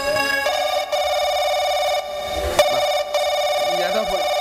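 A telephone rings with an incoming call, a steady electronic ringtone held almost without break for several seconds, fairly loud and close, with faint background sounds beneath.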